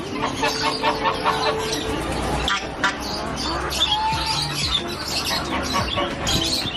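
Chickens cluck and squawk amid other chirping birds at a pet market in Bangkok, a busy, noisy setting with a constant background clamor.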